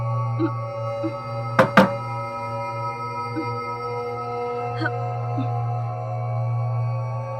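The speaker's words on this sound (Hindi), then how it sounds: "कब से दरवाजा खटखटा रही हूँ" Two quick, sharp knocks on a door land close together, standing out against a steady low hum in a quiet indoor room.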